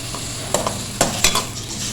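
Chopped onion frying in half a cup of oil for vegetable biryani masala, a steady close sizzle with a few sharp clinks and scrapes of a utensil against the pan.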